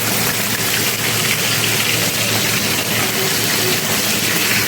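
Pomfret fish fry in hot oil, giving a dense, continuous sizzling hiss that stays loud and even from start to finish.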